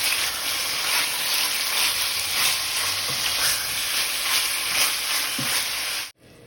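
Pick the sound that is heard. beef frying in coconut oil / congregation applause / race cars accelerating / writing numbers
beef frying in coconut oil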